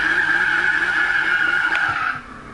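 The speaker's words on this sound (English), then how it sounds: "Hear that dump valve?" Porsche RSR in Need for Speed (2015) holds a loud, close, steady high engine whine while revving, then drops off sharply near the end, fitting a dump valve release.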